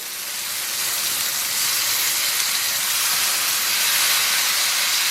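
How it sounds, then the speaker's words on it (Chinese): Squid sizzles in a wok over chili sauce and bean paste oil, a steady broad hiss that swells slightly after the first second and holds, close and loud with no talk. "然后小火给它煸炒出红油，然后咱们把鱿鱼给它下里边"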